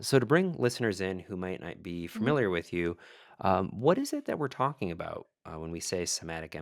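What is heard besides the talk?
None of the usual background noises is heard.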